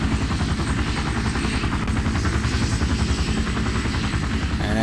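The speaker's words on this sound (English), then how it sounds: "If I change to the back seat, you can see the propeller spinning and the sound effects." Steady, loud helicopter rotor drone with a rapid pulsing chop from a spinning propeller in a Minecraft mod, running continuously with no gaps and no talk.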